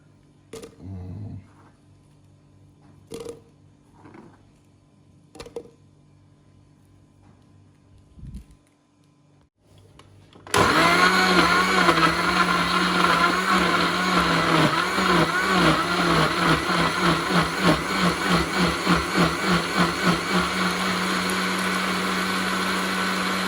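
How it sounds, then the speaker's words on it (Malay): After a few soft knocks and clicks, a loud blender starts abruptly and runs continuously, its motor whirring with a churning, pulsing rhythm. "ni bahan-bahan kita masukkan ke dalam blender"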